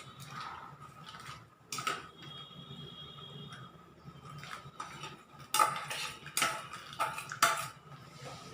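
Fried cashews and raisins stirred into a cooking pot, a quiet spell of metal spoon scraping and clinking, building to several sharp louder clanks against the pot rim near the end.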